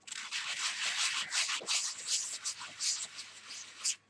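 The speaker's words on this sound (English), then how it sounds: "what I do when I do my sanding is I go ahead and I go in a circular" Sandpaper is rubbed in small circular motions over a craft surface, making soft, close, rhythmic scratchy swishes in a steady series with no talking.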